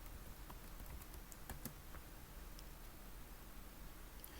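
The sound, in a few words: typing on a computer keyboard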